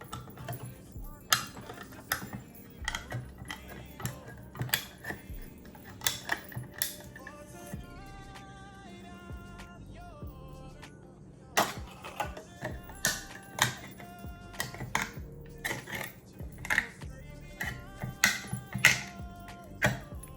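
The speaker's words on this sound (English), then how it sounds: "We're going to open up this can with this knife." Knife tip punching and prying around the rim of a can of corn in a home kitchen, a series of sharp metallic taps and clicks in irregular clusters with a short quiet stretch midway.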